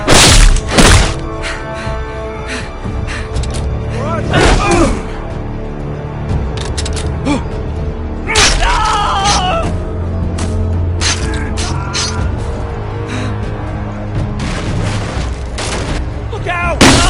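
Gunfire in a Game of Thrones video game, loud booming shots and bangs scattered through a chaotic fight, with shouting voices in between.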